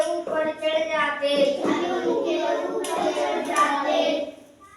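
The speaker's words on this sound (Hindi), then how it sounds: "ताली बजाओ भाई" A group of people, including children, claps hands in a classroom-style gathering, a scattered burst of applause running for a few seconds while voices talk over it before fading out.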